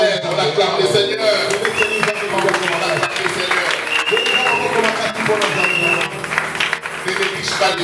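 A church congregation applauds in praise, dense continuous clapping mixed with voices and shouts from the crowd, close and loud over the whole stretch.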